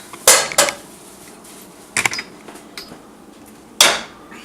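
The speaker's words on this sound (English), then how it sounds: "I have a neck bone here that I'm going to drop in our pot here" Several sharp metallic clanks of a turkey neck bone dropped into a cooking pot, a few close knocks spaced apart with quiet between them.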